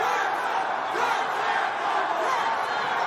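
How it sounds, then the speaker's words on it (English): A boxing crowd roars steadily through a Diego Pacheco fight, a dense, loud wall of cheering and shouting that holds from start to finish. "Crowd coming alive behind Diego Pacheco."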